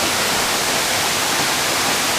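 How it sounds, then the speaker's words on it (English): Steady, dense roar of Tada waterfall, one of the larger falls in a Cambodian park, heard close and loud as continuous broadband rushing water with no talk. "I think it's one of the largest waterfalls in the area."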